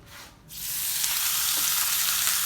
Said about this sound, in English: So now we're gonna put on the grill.